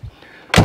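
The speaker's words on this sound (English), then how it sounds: "when you shut the door" A 1954 Rover P4 90 car door swung shut, a short quiet creak followed by a loud solid thunk as it closes, heard up close.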